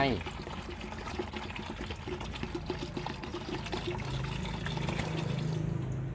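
Water pours steadily for several seconds, about 1.5 liters, into a mix being prepared to ferment high-nitrogen fertilizer, with a voice talking over the close, continuous splashing.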